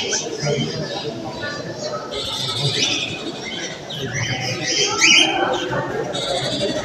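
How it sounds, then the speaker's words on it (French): Cage birds chirping and twittering at a bird fair run by a bird club, busy overlapping calls beneath nearby conversation and general hall chatter throughout. "Encore des oiseaux derby."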